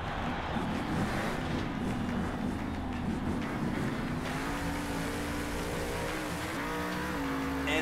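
Monster truck from Monster Jam Steel Titans 2 spinning donuts, a sustained revving engine roar with shifting pitch and gritty tire scrubbing, steady and close, the engine note sliding upward near the end.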